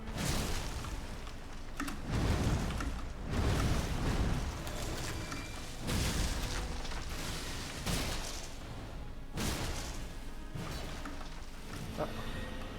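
Repeated booming explosions in the video game Elden Ring Shadow of the Erdtree, dense and loud, rolling in several heavy bursts with rumbling debris between them during a boss attack.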